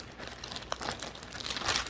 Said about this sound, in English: Excuse the noise from the plastic.